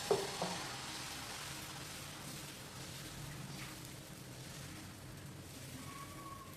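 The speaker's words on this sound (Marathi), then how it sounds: "या इथं आता मी डोसा एक पळीभर बॅटर टाकून व्यवस्थित पसरून घेतलेला आहे" Dosa batter spread thin on an extra-hot griddle, with ghee, gives a steady soft sizzle throughout, a brief louder crackle at the start, and no talk.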